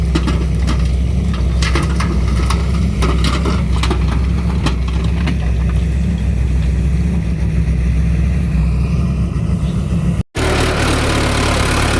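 An excavator loading a dumper truck, its diesel engine running loud, close and steady throughout, with a brief dropout near the end before the engine noise resumes.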